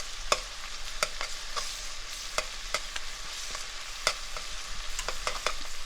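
Garlic cloves fry in the center of a pan for a chicken coq au vin, giving a steady soft sizzle broken by repeated sharp clicks and scrapes of stirring, with no voices.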